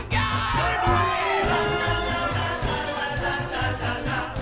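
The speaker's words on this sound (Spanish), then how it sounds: "Y la interpretación de la conga por Broadway suena así." A Broadway-style take on Cuban conga music plays with brassy sliding horns and voices over a steady bouncing beat, full and lively at a constant loudness, with a whoop or crowd shouts mixed in.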